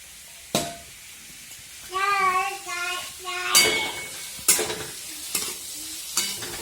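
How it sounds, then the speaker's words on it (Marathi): Chopped onion sautés in a ladleful of oil for kanda poha, with a soft sizzle broken by sharp scraping stirs of the pan. A high, childlike voice sounds nearby. "हे तेल टाकलेले एक पळी त्याच्यामध्ये कांदा चांगला परतून घेण्यासाठी"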